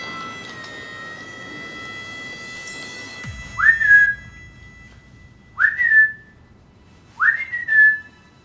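Three sharp rising-then-level whistles, evenly spaced and loud, each repeated after a pause, following a stretch of faint background hum.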